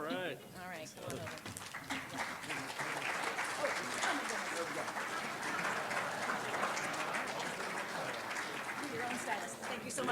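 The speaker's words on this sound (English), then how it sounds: "I don't ever want to cut off the applause." Applause fills a San Jose mayoral event with the mayor, a dense sustained clapping from a large room after brief talk at the start, continuing steadily throughout.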